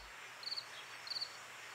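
Crickets of several species chirp in two short, high-pitched bursts against a quiet outdoor hush in a city cemetery, faint and somewhat distant.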